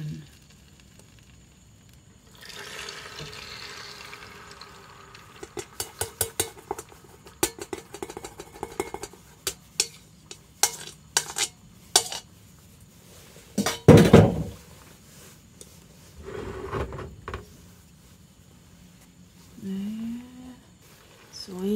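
An egg cooks in oil in a frying pan: a run of light clinks and taps against the pan, then a louder burst and soft sizzling, with occasional faint voice.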